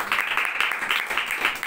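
A congregation at an all-night prayer meeting breaks into applause, a short, steady burst of many hands clapping together.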